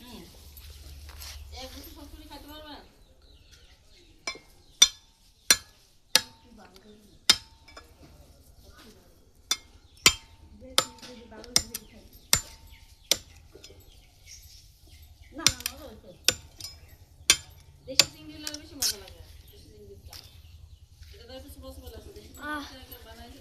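A green coconut is hacked open with repeated sharp chopping strikes, a dozen or more crisp blows coming in irregular bursts, close and clear, with people talking quietly between them.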